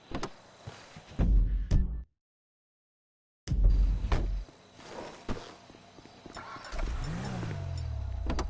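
A car in GTA V starts and pulls away during a heist setup, with thumps and door-like knocks early, a brief silence, then engine rumble building to a rising rev as the vehicle accelerates.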